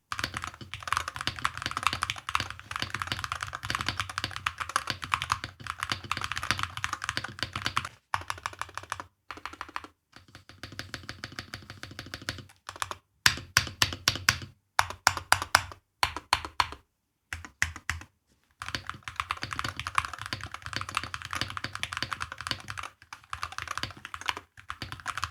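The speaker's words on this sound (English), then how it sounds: "typing test. I believe it sounds great." Typing test on an Akko Monsgeek M1 V5 TMR magnetic-switch mechanical keyboard: steady, close clacking keystrokes in quick runs with brief pauses, fairly soft and alone without talk.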